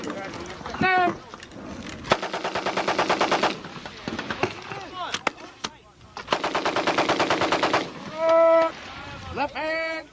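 An M60 machine gun fires long sustained bursts on a U.S. Army training range at Fort Leonard Wood in 1999, loud rapid rattling with shorter bursts between, while voices talk and call out in the gaps.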